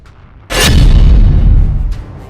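The Russian Burevestnik nuclear-powered cruise missile launches with a sudden loud roaring blast that holds as a heavy, rumbling thrust for over a second before fading.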